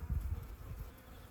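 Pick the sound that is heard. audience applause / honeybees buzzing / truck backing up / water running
honeybees buzzing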